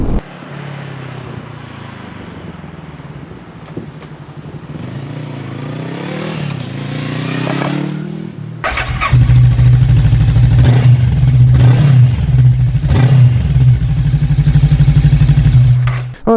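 A 2021 VOGE 500DS motorcycle at highway speed near 72 mph and 6,000 rpm, first a muffled engine hum with wind, then a loud, steady high-revving drone with buffeting for the rest.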